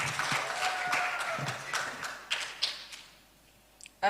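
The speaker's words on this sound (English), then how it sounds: "I think we deserve a round of applause for how far we've come" Applause at a moot court competition, moderate and uneven at first, then thinning into a few scattered claps before fading out, with a sharp knock at the very end.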